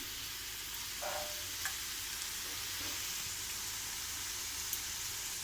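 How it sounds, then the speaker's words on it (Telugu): Masala spices for a paneer curry fry quietly in a pan with a faint, steady sizzling hiss and a couple of soft stirring taps. "పచ్చి వాసన పోయే వరకు కొంచెం ఫ్రై చేసుకుందాము"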